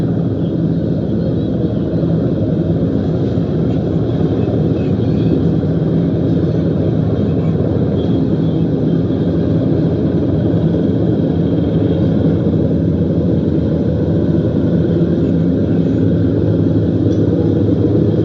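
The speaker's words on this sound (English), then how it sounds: "You guys can hear the helicopters over this area of town." Steady, low droning rumble of helicopters overhead during a street protest in Minneapolis, constant and fairly loud throughout with no pauses.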